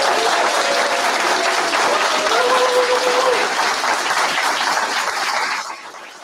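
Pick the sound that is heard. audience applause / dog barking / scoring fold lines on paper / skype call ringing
audience applause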